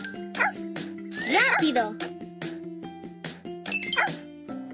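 Cartoon puppies from a Dora the Explorer toy game bark and yip in short bursts, mixed with brief whimpers, under lively voices speaking over them throughout.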